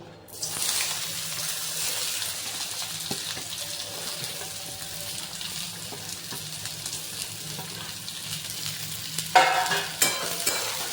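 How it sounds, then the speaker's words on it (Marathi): Finely chopped onion frying in hot oil in a kadai, a steady close sizzle and hiss with faint stirring scrapes, ending in a brief louder burst of spatter. "कढईमध्ये आपण तेल गरम करून घेतले आहे त्याच्यामध्ये आपण बारीक कापलेला कांदा घालून घेऊया"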